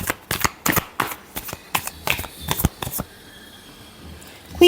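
Tarot cards are shuffled by hand in quick bursts of riffling and slapping, close and crisp, a dozen rapid strokes over three seconds before a pause.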